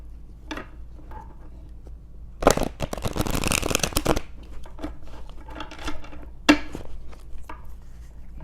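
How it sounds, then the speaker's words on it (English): A deck of tarot cards is shuffled by hand, with a dense burst of rapid riffling flutter lasting over a second, surrounded by scattered soft card taps and handling sounds close by. "all right, shuffle them up."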